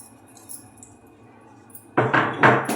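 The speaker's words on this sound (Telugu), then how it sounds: "ఇప్పుడు ఇవి ఇట్లా దంచి వేసుకుందాం. ఎల్లిగడ్డ" Garlic is pounded by hand: after a quiet, faint stretch, about four loud, close, hard strikes land in quick succession near the end.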